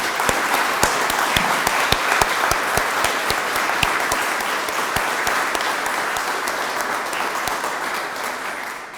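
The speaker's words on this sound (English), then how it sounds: "So one more round of applause for the full group of them." An audience at a YMCA of Southwestern Ontario annual community gathering gives a full round of applause, with dense, steady clapping that carries on through the whole stretch and only eases slightly at the very end.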